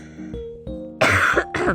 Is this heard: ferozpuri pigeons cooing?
no